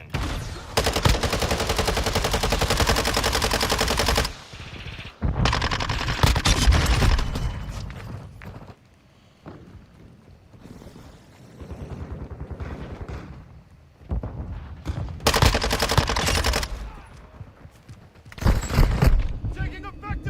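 Automatic gunfire in Call of Duty Modern Warfare II, long sustained bursts separated by short pauses, loud and close, with voices calling out between the volleys.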